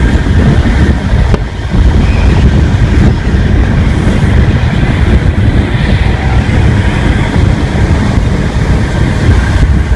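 Train on a UK line near Southall running at over 100 miles per hour, a loud continuous rumble and rushing roar with steady wind buffeting throughout, heard from inside with no talk.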